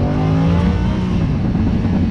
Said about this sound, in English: You see the exhaust wants to open up